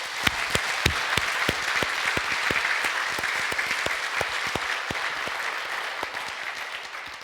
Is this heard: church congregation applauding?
yes